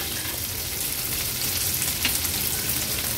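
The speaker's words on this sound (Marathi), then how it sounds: "आता ही 3 बटाटी जी फोडी करून घेतलेल्या उकडवून ते ऍड करतोय" Boiled potato pieces tossed into a hot curry-leaf tempering for a Navratri fasting vegetable, giving a steady, close frying sizzle with light stirring scrapes, no voices.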